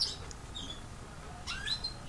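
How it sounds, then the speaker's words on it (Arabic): Tit birds competing to eat peanuts outdoors near a house, a few faint, high, brief chirps scattered over quiet background noise. "طائر القرقرف يتنافس في أكل الفول السوداني"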